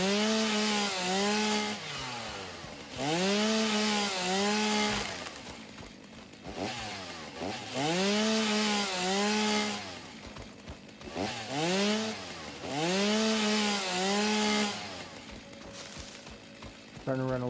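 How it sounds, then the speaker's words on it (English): In a building video game, a chainsaw cutting wood revs in repeated loud bursts, each rising and falling whine coming in a regular rhythm with brief idling gaps between cuts, close up and without talk. "Starting to run a little low on the fuel from a chainsaw."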